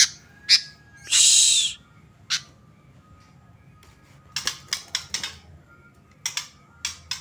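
Sharp, bright calls of a magpie-robin (murai) come in scattered bursts, with a longer whistling phrase early on and quick clustered chirps toward the end, over quiet background.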